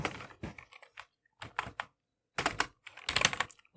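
Typing on a computer keyboard during a coding session: quick bursts of clicky keystrokes separated by short pauses, close and clear, with no talk over them.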